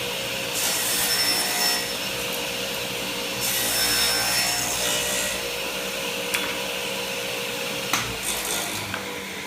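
A saw cuts a scrap piece of wood at a 45-degree angle, guided by an Incra Miter 1000SE miter gauge. Several rough, rasping bursts of cutting rise and fall over a steady background hum, with a couple of sharp knocks near the end.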